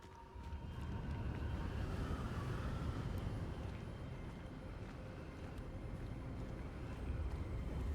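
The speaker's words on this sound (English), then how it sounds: "it's windy as fuck" Strong wind blows in the Hogwarts Legacy video game, a steady low rushing roar that holds at an even level throughout, fairly quiet overall and with no clear speech.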